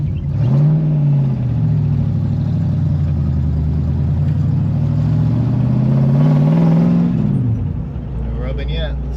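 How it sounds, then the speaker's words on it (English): A 1968 Ford Mustang with reworked rear suspension carries passengers on a test ride, its mid-pitched engine droning steadily and rising in revs before easing off near the end, continuous and close throughout. "let's take it for a ride and see if it rubs"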